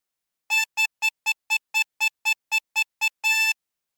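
A meme melody played on harmonica without bends: a quick run of about a dozen short, evenly spaced reedy notes ending in one longer held note, clear and alone.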